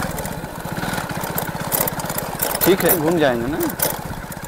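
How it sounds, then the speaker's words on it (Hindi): Motorcycle engine hums steadily while riding along a rural path beside a river, running continuously beneath close conversational speech. "इधर हम लोग बाइक से जा रहे हैं।"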